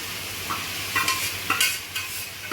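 Paneer biryani ingredients fry in a pan while being stirred, a steady sizzle broken by repeated scraping strokes roughly every half second, close and moderately loud with no talking.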